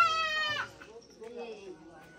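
A small goat kid in a village in Uttarakhand gives a single close, wavering bleat, then quieter sounds follow with people talking faintly in the background.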